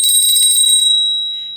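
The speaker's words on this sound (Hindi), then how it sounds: "घंटी भी बज चुकी है" A bright bell rings steadily and loudly for about a second, then fades out, alone with no talk.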